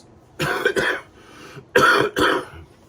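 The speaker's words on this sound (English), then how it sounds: "So I'm sorry about the coughing." Two pairs of harsh coughs, each a quick double burst, close and fairly loud, with a short pause between the pairs.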